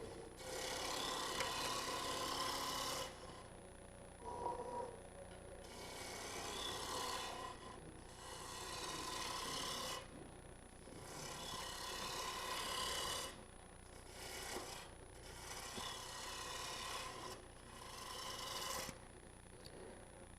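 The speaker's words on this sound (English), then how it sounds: "I'm just using a spindle roughing gouge." Spindle roughing gouge cutting a wood blank on a lathe while turning a pencil box, a loud rasping scrape in repeated strokes lasting a few seconds each, with short pauses between them and no talking.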